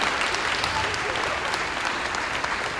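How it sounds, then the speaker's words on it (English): A loud, dense round of applause for a 5th grade class at a school moving-up ceremony, many hands clapping in a continuous, even roar. "Let's give that 5th grade class one more round of applause"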